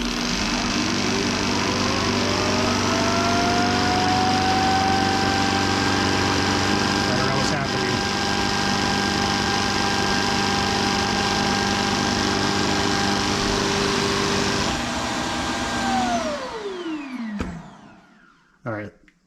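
A Shark robot vacuum's self-emptying base motor whirs up to a steady, strong suction roar, holds for a long stretch, then winds down and cuts off with a few clunks.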